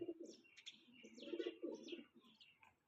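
Pigeons coo nearby in soft, throaty repeated calls, a few overlapping phrases with faint chirps mixed in.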